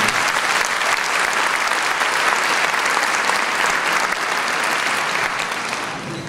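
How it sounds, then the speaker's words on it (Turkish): Loud, dense applause from a concert audience honoring a kanun musician at an Atatürk centenary choir concert, sustained and even for several seconds before easing slightly at the end. "Ergün Karadağ'dan özel bir alkış istiyorum."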